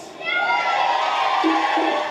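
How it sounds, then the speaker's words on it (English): Protest crowd in Sydney opposing a shark cull raising a sustained mass of shouting and cheering voices, steady and fairly loud throughout with no single speaker standing out. "crowds raised their voices in Sydney"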